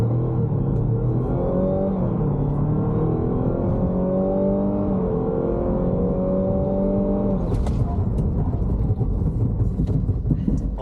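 A 2024 Mazda CX-90 GS-L plug-in hybrid SUV accelerates hard from 0 to 100, its engine note climbing in loud rising sweeps through several gear changes, then giving way to a steady broadband hiss of rain and road noise.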